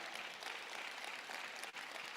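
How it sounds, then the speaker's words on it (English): Audience applause at a Lagos technical and business meeting, a steady wash of many hands clapping at a distance that holds evenly for about two seconds without voices. "Please keep clapping until he climbs the podium."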